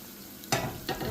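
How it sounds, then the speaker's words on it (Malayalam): Onions sautéing with garlic and green chilli in a pan for a chickpea curry, a steady close sizzle with two louder bursts as the mixture is stirred and tossed. "സവാള നന്നായിട്ടൊന്ന് വഴന്ന് വരട്ടെ, അതുവരെ ഒന്ന് ഇളക്കി കൊടുത്തുകൊണ്ടിരിക്കാം."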